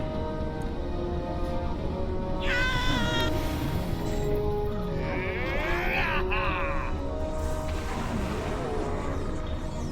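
A cat meows a few times in the Neverwinter Nights video game. The short rising and falling cries sound over steady game background noise.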